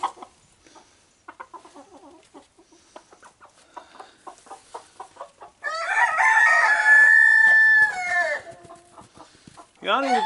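A chicken clucks in a soft, scattered series close by, then bursts into a loud, drawn-out crowing cackle for a few seconds, with another short call at the end.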